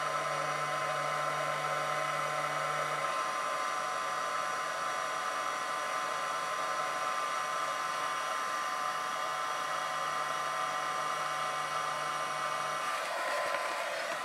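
Hot air heating tool blowing steadily from beneath a folded craft card, a continuous airy whoosh with a steady hum, close and loud throughout, cutting off near the end.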